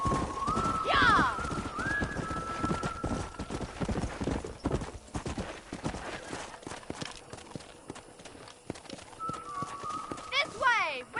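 Horse hooves clip-clopping steadily at a gallop in the Western video game Red Dead Redemption, with a whinny and a whistling call, carrying on under bursts of voices.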